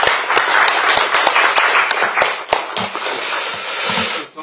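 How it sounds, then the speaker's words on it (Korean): An audience at a party gathering claps loudly for its floor leadership, dense close applause with sharp individual hand smacks that thin out and fade toward the end. "우리 원내 지도부 위해서 박수 한번 칩시다."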